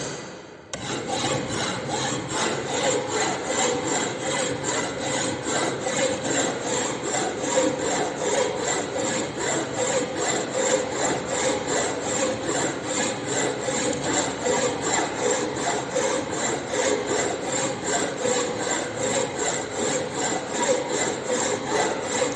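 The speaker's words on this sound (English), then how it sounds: "Now he is filing the adjoining side, the adjacent side," Hand file rasping steadily along the edge of a metal workpiece in a fitting shop, continuous close strokes blending into a dense, even scraping texture with no talk.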